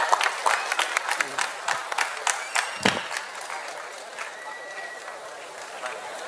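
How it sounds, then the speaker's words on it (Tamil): Loud applause from the audience at a state-level final competition prize ceremony, a dense sustained roar of clapping that fills the whole stretch without letting up. "பலத்த கைத்தட்டல்கள்."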